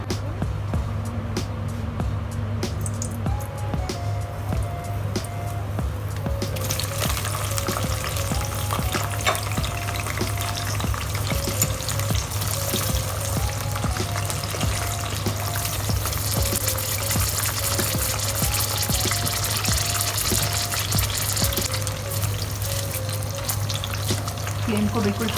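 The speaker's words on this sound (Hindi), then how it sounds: "तो चलिए अब इसको भी हम फ्राई करते हैं।" Eggplant pieces fry in hot oil in a pan for aloo baingan, a steady soft sizzle with occasional stirring under a constant low hum, faint in level and continuous throughout.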